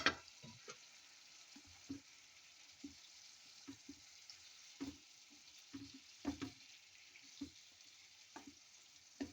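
Onion rings sizzle in a pan alongside eggplant steak, a soft steady frying hiss broken by sharp intermittent clicks and stirring taps.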